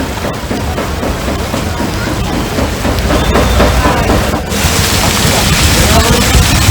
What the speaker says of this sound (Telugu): తెల్లవారుజాము నుంచి కురుస్తున్న వర్షంతో సిటీలో చాలా ప్రాంతాలు జలమయమయ్యాయి.